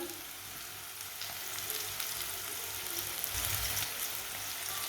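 Chopped green onion, green garlic, tomatoes and green chili frying in a pan make a steady, dense sizzle with a few soft stirring thumps and no talking.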